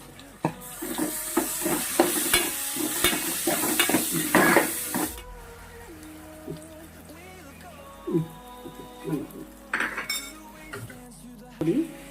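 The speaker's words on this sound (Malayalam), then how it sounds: "പിന്നെ ഇതിന്റെ കൂടെ പച്ചമുളക് നന്നായിട്ട് ഇളക്കുക" Green chilies and tomatoes stirred and frying in a pan for fish biryani, with a steady sizzle and frequent spoon clinks against the pan, louder at first, then quieter scraping and stirring.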